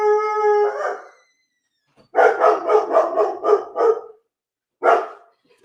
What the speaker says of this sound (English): Every time he sees my son, he barks at him